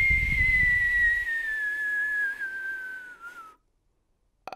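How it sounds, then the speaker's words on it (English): A person whistles a single long, clear tone that slowly glides downward and fades out, close and alone after a brief low rumble at the start. "I can't whistle, but still,"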